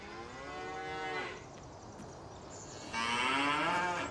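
A cow in the Farming Simulator 19 farm game lets out two drawn-out moos, the first fading after about a second, a short pause, then a louder second call, close and alone with no talk.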